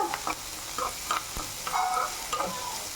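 Two large onions sauté in a pan for prawn sukka, with a spoon scraping and stirring in short strokes over a soft, steady sizzle, close and without talk.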